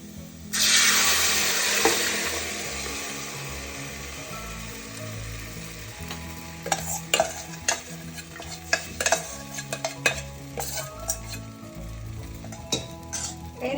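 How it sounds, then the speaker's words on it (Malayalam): Kalathappam cake batter poured into a very hot pressure cooker, setting off a loud sizzling rush that fades, followed by scattered metallic clinks and scraping of a spoon against the pot. "ഇനി ഇത് നമുക്ക് നല്ല ചൂടായി, കുക്കർ നല്ല ചൂടാണ് നമ്മളിത് ഒഴിക്കുന്ന സമയത്ത്. നമുക്ക് ഇതിലേക്ക് ഒഴിച്ചു കൊടുക്കാം."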